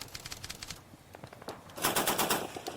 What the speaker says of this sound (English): the Bren gunner begins to shoot at the Goliath team.